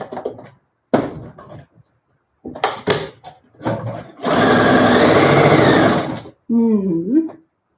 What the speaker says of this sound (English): first I'm going to just take a piece of fabric and test my machine, make sure it's working